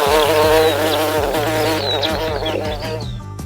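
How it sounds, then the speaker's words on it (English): Bees buzz in a cheerful children's farm counting song, a steady insect drone running under bright music for a few seconds. "Seven bees."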